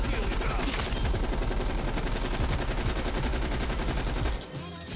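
An RPD light machine gun fires in Call of Duty Cold War as a sustained rapid automatic burst of loud, close, evenly spaced shots that stops abruptly near the end.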